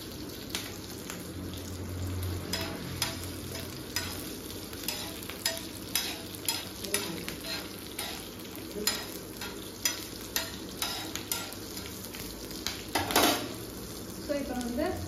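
Spices splutter and pop in hot oil with asafoetida and curry leaves, a steady sizzle broken by many sharp crackles and occasional utensil clinks, close and fairly loud with no talking.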